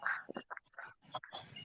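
Backyard chickens clucking and squawking in a short run of close, irregular calls, loud and busy, with no talk over them.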